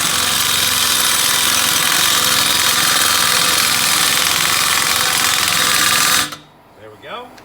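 A loud, continuous buzzing power tool tightens a ball joint press on a Dodge Journey, running steadily up close for about six seconds before cutting off abruptly into a quieter tail with faint sounds.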